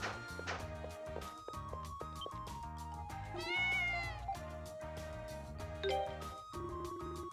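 A cat meows in the video game Ys: Memories of Celceta, its cries layered over steady game music with chiming tones, moderately loud throughout.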